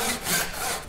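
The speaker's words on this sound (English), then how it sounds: "now we're just going to do a few cuts in the middle here to weaken that material" Hand saw cutting wood for a cross halving joint, one close, raspy stroke of the blade through the timber.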